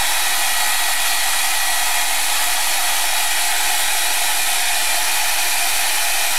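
A hair dryer blows steadily on artwork, a continuous broadband whoosh that stays loud and unchanging throughout, with no voices.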